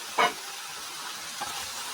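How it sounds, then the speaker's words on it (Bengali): Eggplant and potato pour into hot fried spice paste with a sharp, brief burst of sizzling, then a low hiss and one smaller crackle. "এবার ঢেলে দিলাম কষানো মশলার মধ্যে।"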